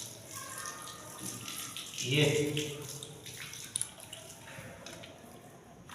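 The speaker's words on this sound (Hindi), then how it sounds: "इसी तरीके हम इस बाजू को पानी के नीचे लेंगे, नलके के नीचे लेंगे और खूब अच्छे तरीके से धो लेंगे।" Tap water runs steadily into a sink while an arm is washed under it, with a louder splashing surge partway through and a voice speaking briefly over the flow.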